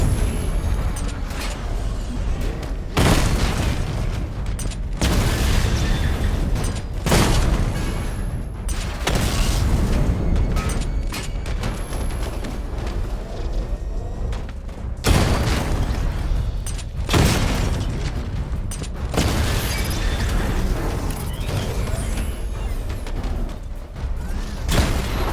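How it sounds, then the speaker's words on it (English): Repeated heavy booms and blasts from a missile barrage in Batman: Arkham Knight, loud rolling explosions in bursts with a few sharp onsets, continuing throughout with no talk. "Charge the missile barrage to level 2 to destroy up to 4 targets at once."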